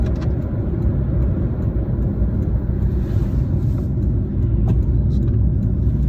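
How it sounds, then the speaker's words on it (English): Steady low engine drone and road rumble inside a 2009 Fiat Panda 1.1 while driving, a constant muffled hum with no talking over it. "I'm very pleased with the noise level in the car."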